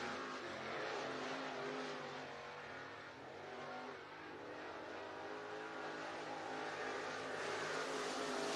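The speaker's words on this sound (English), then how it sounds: "Here comes the Hunt the Front 1 car." Race cars lapping the track at Southern Raceway, a steady distant engine drone that swells and fades as cars pass, heard alone throughout.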